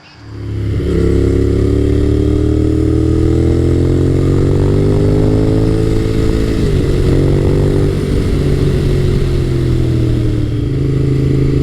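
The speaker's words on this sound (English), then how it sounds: "I'm riding Honda's VTR1000F SuperHawk, and this bike is a beautiful example" Honda VTR1000F SuperHawk (Firestorm) V-twin motorcycle on the road, its engine droning loud and steady throughout, pitch climbing gradually through the gears with a brief shift dip midway.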